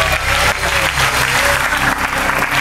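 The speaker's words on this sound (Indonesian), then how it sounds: "tepuk tangan dong buat bapak dan istrinya" A studio audience at the Family 100 game show applauds for a contestant and his wife, a dense, steady wash of clapping that stays loud and even throughout.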